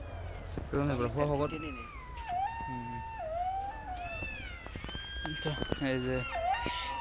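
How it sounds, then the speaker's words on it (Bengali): Jackals howl in long, wavering cries from a distance, overlapping one another while someone talks close by. "চারদিকে আবার শিয়ালের ডাক"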